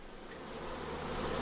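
A dense swarm of bees covering a man's face makes a steady, close, enveloping buzz that swells slightly louder over its short span.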